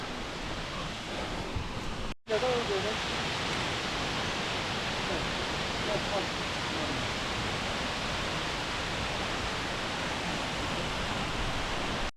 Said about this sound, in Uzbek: Shu Arslonbob sharsharasi bo'ladi, katta sharsharasi.